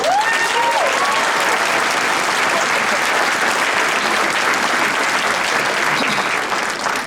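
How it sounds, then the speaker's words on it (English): Students and guests at a high school champions banquet give a loud, sustained round of applause that stays constant throughout, with a few whoops cutting through near the start. "Don't we believe that deserves a round of applause?"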